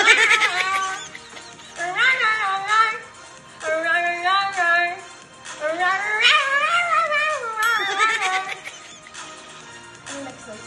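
A person imitates a cat during an animal sounds challenge, giving a series of about four drawn-out, wavering meows separated by short pauses, loud and close.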